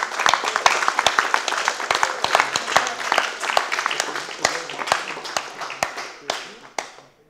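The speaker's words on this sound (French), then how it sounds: "Merci de les applaudir aussi." A small audience at a university eloquence contest applauds, with distinct, sparse claps that start moderately full and thin out to a few scattered hand claps by the end.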